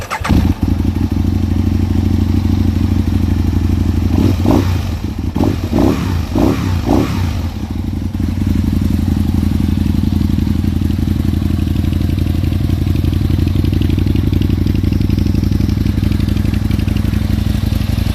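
A 2008 Aprilia Tuono Factory R motorcycle engine runs close by at a steady, loud idle, with a burst of several quick throttle blips partway through before it settles back to idle.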